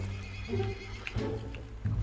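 A horse in the Red Dead game RedM gives a series of short whinnying neighs, fairly close and clear, with a few hoof clip-clops mixed in and no talk.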